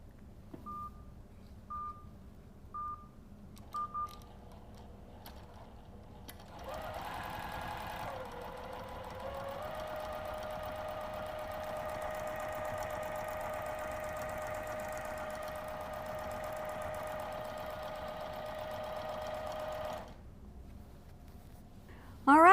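A quilting sewing machine controlled by a Surestitch Elite starts after a few short beeps and runs at a steady speed for about thirteen seconds as a fast, even, motor-driven stitching hum, then stops.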